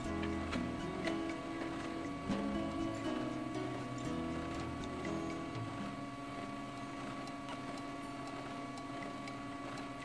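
A toner printer whirs and clatters steadily as it feeds a sheet of cardstock, with rhythmic mechanical ticking and grinding throughout.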